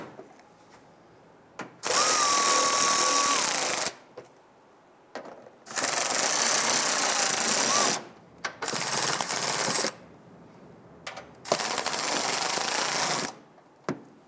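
A power tool snugs down fender liner screws on a 2002-2008 Dodge Ram 1500, loud close mechanical whirring in four separate bursts of about two seconds each, with quiet pauses between.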